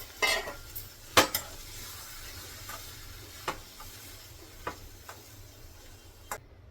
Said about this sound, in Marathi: आता गॅस मी कमी केला आणि ही भाजी काढून घेते